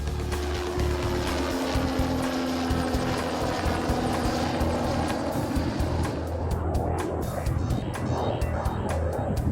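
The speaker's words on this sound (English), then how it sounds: "As the plane makes its final descent, Ted gives the stunt rider some last-minute instructions." A low-flying aircraft roars through a steady, loud engine rumble with a whirring, pulsing texture that grows choppier toward the end.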